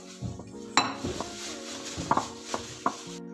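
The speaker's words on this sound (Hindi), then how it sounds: "अब हम इस सबको अच्छे से मिक्स कर देंगे" Batter for an eggless sponge cake is stirred in a bowl with a spoon, giving a run of close, irregular clinks and scraping knocks against the side of the bowl.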